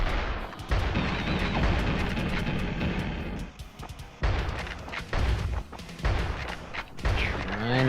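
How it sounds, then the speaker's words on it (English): Shotgun blasts in the video game Bite The Bullet, a rapid series of loud, punchy booms in irregular bursts over busy game action, each shot close and sharp. "Wrecking him with that shotgun."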